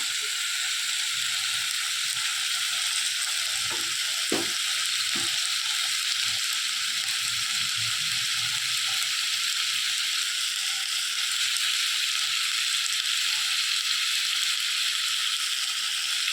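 Spice paste masala frying in a pan for a rohu fish curry, a steady hissing sizzle with a few brief stirring knocks near the middle, close and unbroken, no speech.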